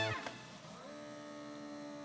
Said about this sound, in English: this is the fun bit, the actual pulling out of the air, creating a vacuum.